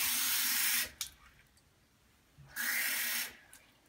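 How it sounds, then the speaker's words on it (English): Water pouring from a tap into a cup for a science experiment, two short hissing runs of flow separated by a quiet gap, close and fairly soft. "so I'm going to fill this with water"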